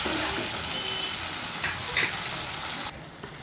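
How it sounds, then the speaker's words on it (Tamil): Onions and tomatoes with salt fry in a pan for Saidapet vada curry, giving a loud dense sizzle with a few stirring scrapes, then the hiss drops sharply near the end; no one speaks. "இப்போ வெங்காயம் வெந்துச்சு தக்காளி போட்டுக்கலாம் நல்லா கிண்டி விட்டுடலாம்"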